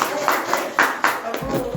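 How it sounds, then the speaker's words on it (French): A small group claps in a few scattered bursts, close and fairly loud, with voices mixed in around the applause. "On applaudit pour elle."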